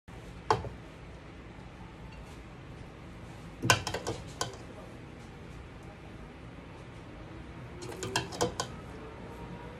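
Dishes clink as fluffy curry leaf rice is served onto a plate, with three sparse clusters of light ceramic and metal taps and scrapes spread over a quiet background.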